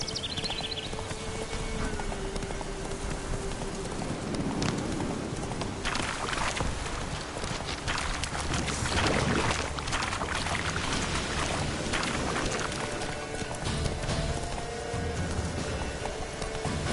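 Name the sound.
horse galloping, Roach in The Witcher 3 video game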